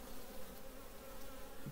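Agitated honey bees swarm over brood frames in a hive during cold weeks after their cleansing flight, giving a faint, continuous, even buzz.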